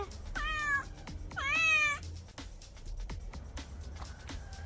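Two loud, drawn-out video game cat meows close by, the second longer and higher, followed by softer clicks and light background noise.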